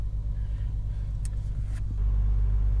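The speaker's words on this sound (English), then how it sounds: "So it looks like the tow truck that came to get us is stuck." A stuck tow truck's engine rumbles low and steady nearby, rising slightly in revs toward the end as it strains to pull free, with no voices over it.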